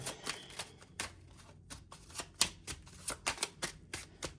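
A deck of tarot cards is shuffled close by in quick riffling bursts, crisp slaps and flutters repeating at an irregular pace with short gaps, heard alone without talk.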